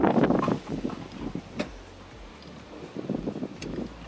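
Gusts of wind buffet the microphone in uneven bursts, loud at the start and again near the end, with quieter rumbling stretches between and no clear speech.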